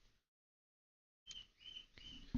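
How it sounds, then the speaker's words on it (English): A bird chirps outdoors in short, thin calls after a stretch of silence, moderately near and fairly faint, with a low thump at the very end. "guys hear that fucking bird?"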